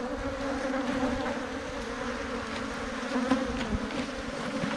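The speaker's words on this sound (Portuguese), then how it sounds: "trata-se de um enxame grande." A large swarm of honeybees clusters into a hive box, producing a dense, steady drone of buzzing close by with no pauses.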